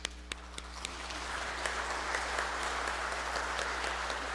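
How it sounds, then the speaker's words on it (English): A wedding congregation at a Mass applauds the newly married couple; a few sharp claps grow into steady, fairly distant applause that holds to the end, with a low hum underneath. "So big applause to the couple"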